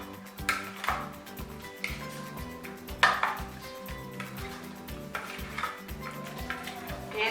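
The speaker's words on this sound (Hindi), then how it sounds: "इसको अच्छी तरह मिक्स कर लें।" A spoon stirs aloo cholay chaat in a bowl, giving a few scattered clinks and scrapes against the dish over steady background music.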